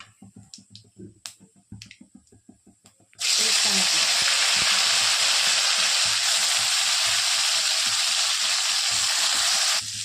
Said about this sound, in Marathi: तेल गरम झालं आहे आता टाकत आहोत अर्धा चम्मच जिरे